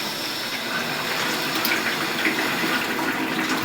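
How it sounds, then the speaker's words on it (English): Hot water runs from a tap during a bathroom plumbing renovation, a loud, continuous close-up gush and hiss without pauses or voices. "I'm gonna turn the hot water on."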